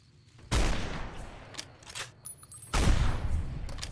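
Two loud rifle shots, each with a long booming tail, ring out in the video game Fallout: New Vegas during a battle in Zion, with quieter clatter between them.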